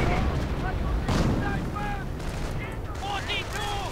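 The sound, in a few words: 30 caliber machine gun fire in a strategy video game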